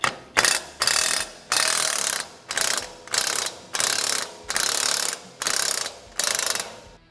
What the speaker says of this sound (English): we're going to go ahead and loosen up the shock bolts